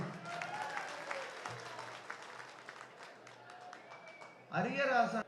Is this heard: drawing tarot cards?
no